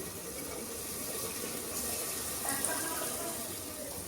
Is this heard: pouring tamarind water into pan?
yes